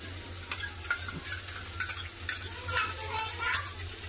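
Peas and onion fry in a pan on a gas stove with about two spoonfuls of sour yogurt stirred in, giving a steady close sizzle broken by scraping stirs of a spoon, with no voices.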